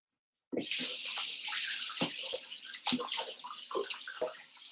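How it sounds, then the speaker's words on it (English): Hands are washed under running tap water, a steady close splashing rush that starts abruptly after a brief silence and keeps going, with uneven surges as the hands move through the stream. "Wash my hands."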